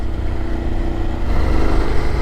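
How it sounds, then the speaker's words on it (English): BMW GS 850 motorcycle engine while riding: a steady, smooth drone holds throughout with dense wind rush over it, loud and continuous, with no speech. "This engine, every bit as smooth as the Boxer engine."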